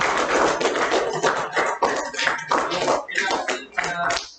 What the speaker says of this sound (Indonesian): Jadi tepuk tangan buat kita pembelajaran pada siang hari ini.